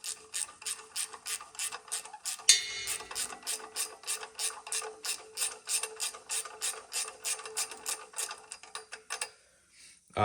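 A ratchet wrench clicks steadily and rapidly in close, loud repeated bursts while loosening bolts on a 6.0 Powerstroke diesel engine during a head gasket teardown, with no talk, ending in a brief pause.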